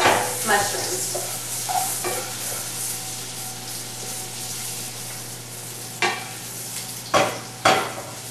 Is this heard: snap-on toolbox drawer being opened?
no